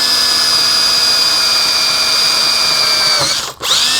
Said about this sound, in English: you're just going to have to pre-drill a hole going through the first and second pipe